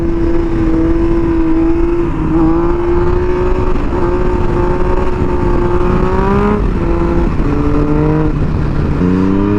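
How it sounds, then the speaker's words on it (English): A Yamaha FZ-09 motorcycle revs hard under full throttle for a power wheelie, its engine note climbing in repeated rising sweeps and shifting, loud and close, with no talking. "you just give as much throttle as you can and lift the front up"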